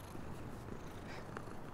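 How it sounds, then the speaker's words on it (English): Soft, continuous purring from a cat, a low rumbling buzz held faint and close throughout with no distinct meow standing out. "what can you tell us about this cute, fuzzy little guy here? He is Cat."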